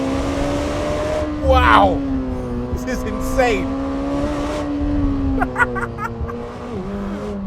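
A Lamborghini Temerario engine pulls hard with a steady high-pitched drone that climbs through the revs, with brief shifts and surges as it accelerates. An excited voice talks over the engine.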